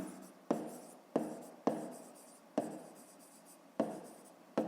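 A pen writes out a fifth-grade fraction problem on paper in a series of six or so close scratching strokes, each starting sharply and trailing off, with short pauses between and no talking.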